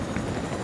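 Steady, dense helicopter rotor and engine drone from a video game fills the short moment, continuous and fairly loud with no speech over it.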